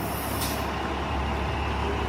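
A city shuttle bus in downtown Toronto releases a sharp hiss from its air brakes, with steady engine rumble and road noise continuing throughout.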